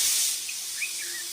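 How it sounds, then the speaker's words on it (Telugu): Steam escaping from a pressure cooker of mutton curry gives a short, faint hiss that fades quickly, followed by a few thin, wavering whistle tones. "కుక్కర్లోంచి ఆవిరి మొత్తం పోయాక"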